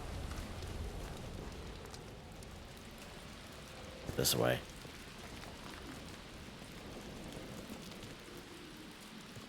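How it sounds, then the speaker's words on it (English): Rain in the video game Atomfall falls as a steady, soft patter, broken by a short louder burst of noise; a person speaks briefly over it. "it's kind of cool that they have that rain effect"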